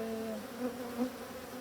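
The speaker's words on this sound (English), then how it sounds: "a worker who's just shaking up the pollen off her back basket" Honeybees buzz inside an opened hive, where a worker shakes pollen off her hind-leg basket while a house bee helps, giving a steady close drone with slight wavering pitch and brief swells, without voices.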